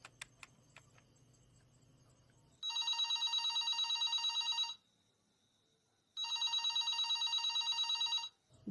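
A phone rings in two long trilling bursts separated by a short silence, loud and close, after a few faint clicks and a low hum at the start.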